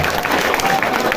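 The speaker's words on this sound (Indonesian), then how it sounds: "Berikan tepuk tangan untuk teman kita." An audience at a Ramadan Nuzulul Qur'an religious gathering claps for a student, a dense, continuous patter of hands across the whole short moment with some voices mixed in.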